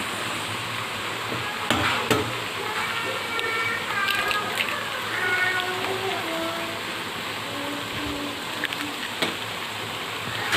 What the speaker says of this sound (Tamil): நான் 3 முட்டை உடச்சி ஊற்றுறேன்